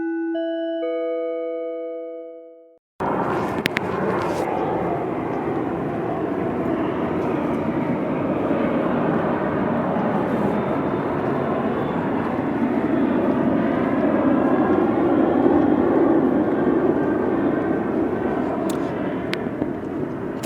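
An airplane roars steadily overhead for close to twenty seconds, a broad loud rumble that follows a brief chime-like tone at the start.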